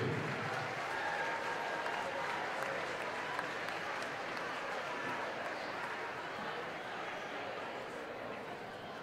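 Sustained crowd applause and cheering in a school gym during a girls' high school basketball game, honouring the middle school players, a dense, even roar that tapers slightly toward the end, with voices mixed in.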